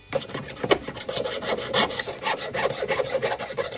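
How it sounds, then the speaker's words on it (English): Steady rasping strokes of a fine file scraping silver, repeated back and forth in an even rhythm, close and moderately loud with no voices. "let's get a fine file now"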